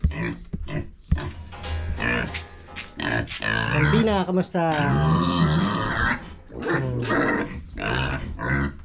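Pet pig grunting at a rural Filipino home under overcast, rainy weather, its low grunts mixed with close, continuous talk and voices throughout.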